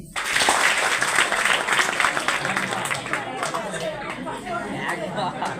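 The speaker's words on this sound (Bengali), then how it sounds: "তারা একবার হাততালি দিন" A live seminar audience claps in response to a call for hands, a dense, steady wash of applause mixed with crowd chatter that fades slightly toward the end.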